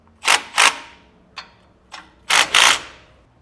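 A 9/16 ratchet wrench snugs up nuts while rear air helper springs are installed, giving bursts of rapid ratcheting clicks, close and crisp, mostly in pairs with short single bursts between.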